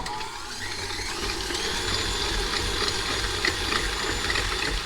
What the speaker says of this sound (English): put your 8 ounces of cream cheese and your 1/4 cup of sugar in your either stand mixer or electric mixer